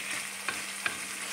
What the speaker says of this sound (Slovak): Tak treba nám to fajno restovať ešte a